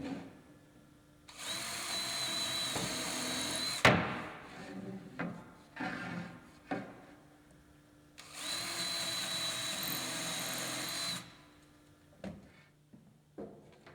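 A power drill pre-drills holes into gazebo screen caps, with two long whirring bursts separated by clunks and knocks of handling parts, close and loud, with no talk.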